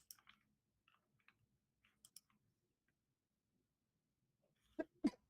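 In a quiet room, a person gives a sudden sharp sneeze near the end, a pair of loud close bursts after several seconds of faint scattered clicks and soft movement.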